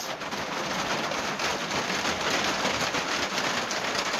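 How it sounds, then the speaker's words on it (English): Steady rain patters on a backwoods cabin roof, a dense even hiss with fine pattering that holds throughout at moderate loudness. "More rain."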